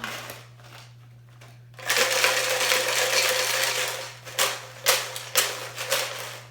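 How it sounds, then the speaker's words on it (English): Loose rocks rattle steadily inside a plastic Gatorade bottle, a continuous gritty shaking that breaks into a few sharper bursts near the end, close and fairly quiet. "I'm gonna put the rocks in the Gatorade bottle."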